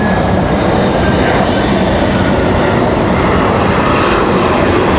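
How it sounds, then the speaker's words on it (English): A Flexjet business jet from Teterboro comes in to land at Raleigh-Durham International Airport. Its engines give a loud, steady, broadband roar that fills the whole stretch without a break. "It's a flex jet from Teterboro."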